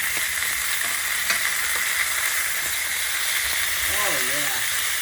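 A ribeye steak sizzles loudly in a hot pan on a gas stove just after being flipped, a steady close hiss and crackle throughout, with a few faint background sounds near the end.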